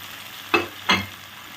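Two quick scraping strokes of a spatula through fried potatoes mixed with salted, boiled pumpkin stalks and leaves in a pan, a soft sizzle hissing faintly between them.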